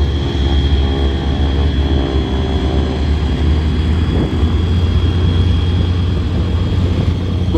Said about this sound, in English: Beech 18 is being flown by Mekpool.